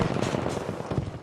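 Rapid gunfire from a MAS 44 rifle in Battlefield 5 during a medium-range gunfight, a dense run of loud, close shots packed together through a second with no gaps.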